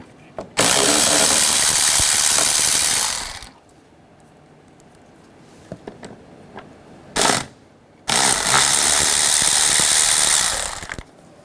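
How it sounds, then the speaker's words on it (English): Rapid ratcheting from a 10mm socket working bolts loose on a 2004-2009 Toyota Prius engine bay, two loud bursts of dense clicking separated by a quieter pause with a brief knock, no talk. "Take these two bolts out, use a 10mm socket."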